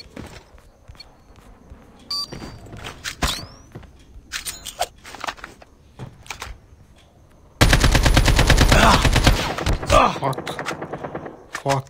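Rapid video-game gunfire bursts, loud and close, with a sustained heavy volley near the end, plus scattered shots and clicks from a match against a trash talker.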